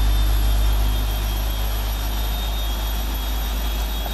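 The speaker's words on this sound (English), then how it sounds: "we can at least listen to our engine start" The jet engine of a PMDG 747-8F airliner spools up in the Prepar3d flight simulator, a loud steady low roar and rumble with a thin high whine sustained throughout, no voices.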